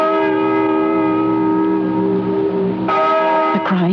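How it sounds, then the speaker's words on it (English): A bell tolls in an old barn in a radio drama, a loud sustained ringing tone with long humming overtones, then struck again near the end with a fresh sharp attack. "Listen to that bell."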